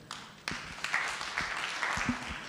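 An audience at an export group symposium claps, producing a soft, scattered round of applause with a few distinct claps, quiet and somewhat distant.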